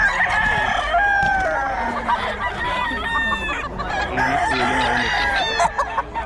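Several roosters crow repeatedly and loudly, their calls overlapping amid steady clucking and general farmyard bustle.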